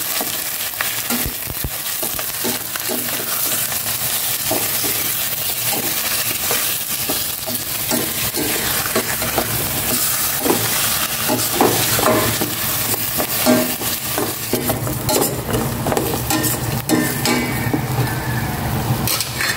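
Pork frying in a pan, a continuous dense sizzle with frequent scraping and clinking of a utensil as it is stirred, close and loud with no talking.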